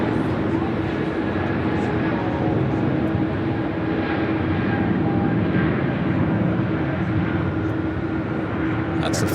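A United heavy airliner departs LAX for Chicago O'Hare on New Year's Eve, its engines a steady broadband roar that holds constant, with a voice talking over it.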